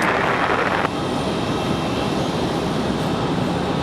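A United Boeing 737-900 jet departing Raleigh-Durham International for Denver, its engines a loud, steady roar that holds throughout, slightly brighter and harsher for the first second.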